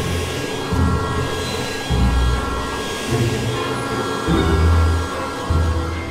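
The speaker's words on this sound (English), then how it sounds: "My team are using heat guns to remove the metal sides, but it's a painstaking process." Heat guns blasting hot air to loosen the metal sides from a giant sculpted ice cream, a steady loud roar with a low hum that swells and dips in bursts.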